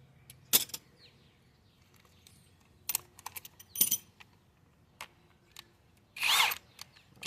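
A small power impact gun works the rear brake bolts on a 2009 Nissan Maxima in short, sharp bursts with clicks and rattles between them, ending in one longer whirring burst, close and fairly quiet.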